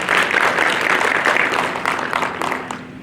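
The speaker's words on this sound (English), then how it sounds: "Can we give them a round of applause, please?" A conference audience applauds a platinum sponsor, steady hand clapping from a sizable crowd in a hall that holds evenly for a few seconds before thinning toward the end.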